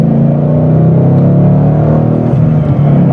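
A 2013 Ford Mustang GT with an MT82 manual gearbox pulls hard in second gear with a loud, continuous engine drone heard from inside the car, then shifts smoothly toward third. No one speaks over it.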